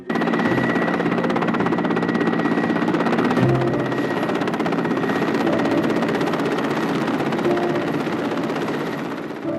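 A helicopter's steady rotor chop and engine roar fill the air continuously and loudly, holding nearly constant throughout, in Pyramiden in the Arctic.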